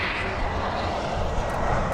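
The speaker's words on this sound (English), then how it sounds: "Let's take a look at this plane" A jet airliner from JFK landing on runway 25 right at Los Angeles International Airport makes a loud, steady, broadband engine roar that holds constant throughout.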